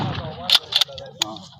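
A rifle fires at an army firing practice, a couple of sharp cracks amid voices talking, brief and fairly close.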